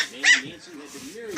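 A small puppy kept as a guard dog lets out a brief yip and a low growl, close by, while people talk over it.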